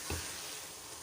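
Grated carrot halwa frying in butter in a pan, a steady soft sizzle that holds evenly throughout, close and alone.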